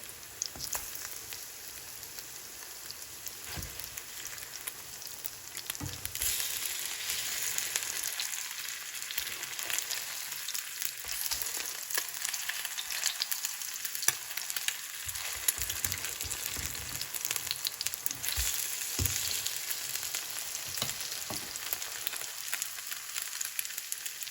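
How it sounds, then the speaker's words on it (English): Potato pancakes (latkes) fry in a pan with a steady, faint sizzle and crackle, soft popping throughout, heard alone without talk. "carefully flip the potato pancakes to the other side"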